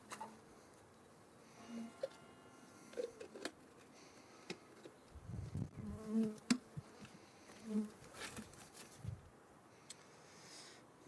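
Faint, intermittent honeybee buzzing in a quiet outdoor setting, with soft thumps and rustles in between.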